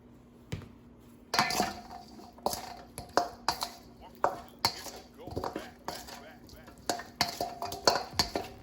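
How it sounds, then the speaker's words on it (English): Chicken wings, flats and drums, being stirred with paprika in a bowl, making repeated clinking, scraping and knocking sounds in a steady rough rhythm, close up. Speech can be heard faintly in places. "Stir it up some. I want the paprika to be on all sides."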